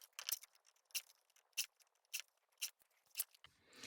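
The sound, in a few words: scissors trimming white border off paper for collage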